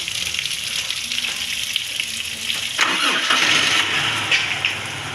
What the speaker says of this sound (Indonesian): Lalu kita nyalakan mobil.